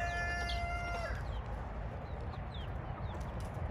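Farm chickens raised for a living in the United States: a rooster's crow fades out at the start, then faint scattered clucks and short calls follow.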